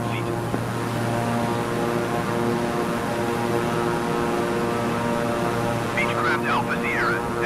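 A Beechcraft propeller aircraft engine in Microsoft Flight Simulator drones steadily and loudly for the whole stretch, holding an even pitch, with a brief voice near the end.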